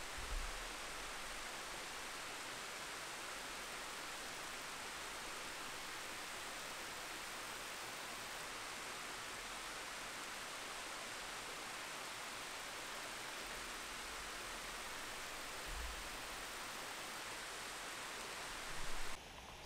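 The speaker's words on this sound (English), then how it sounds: "Pretend you are by this waterfall and just relax." A waterfall at Colorado Bend pours with a steady, even hiss of rushing water, continuous and unbroken, heard close with no voices.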